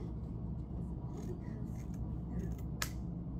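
Scissors cut through tutu fabric with soft, faint rasping snips over a low room hum, close by with no speech.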